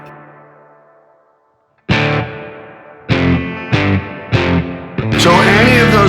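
Guitar notes struck one after another through a Meris Mercury X hall reverb preset, each attack blooming into a wide, lingering tail after a decaying opening note and brief silence, ending in a bright dense wash.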